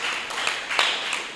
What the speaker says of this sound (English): And you give yourself a round of applause.